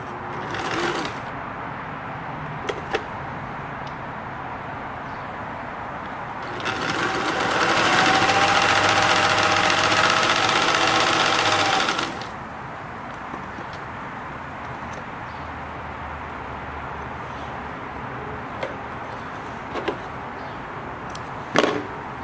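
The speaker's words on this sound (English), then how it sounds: "Push forward and begin sewing again." A Singer Touch and Sew sewing machine whirs into a steady, fairly loud run for about five seconds in the middle, framed by quieter handling clicks and taps before and after.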